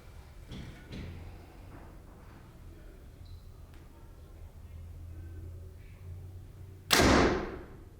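A quiet stretch of faint room noise and soft handling, then a single sharp, loud snap and thrum of a 2019 Mathews Vertix compound bow firing near the end.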